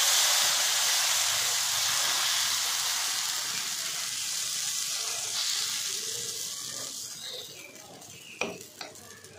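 Tomato omelette batter sizzles in oil on a hot griddle, a bright steady hiss that slowly fades, with a few sharp utensil clinks near the end.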